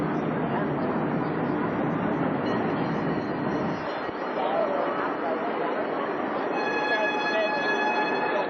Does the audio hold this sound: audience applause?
no